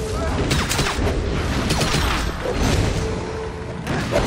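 Gunfire and blasts in the fantasy game Rift, a busy run of bursts and booms over a dense battle din.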